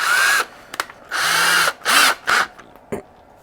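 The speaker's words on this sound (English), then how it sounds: "This Bondo drills real easily" Several short bursts of a power drill whining up and down as it bores into Bondo body filler on a sculpture, close by, separated by brief pauses and small clicks.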